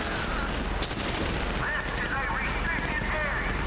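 Gunfire in the video game GTA 5 runs as dense, continuous shooting for several seconds, loud and close, with a voice talking over it.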